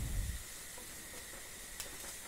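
Crushed ginger and green chillies sizzle in hot oil, producing a soft, steady hiss with faint crackles; a low thump comes at the start.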